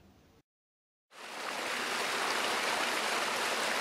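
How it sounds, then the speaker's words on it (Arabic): Shower water running in a steady, loud hiss that starts after a brief moment of silence and continues without a break. "اروح بقى اخد دش عشان افوق"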